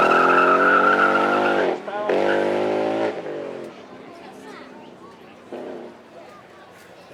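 The only Mustang RTR in the country, a 5-litre V8 drift car owned by a Formula Drift champion, roars and squeals its tyres on track, loud at first, then fading into the distance with a commentator talking over it.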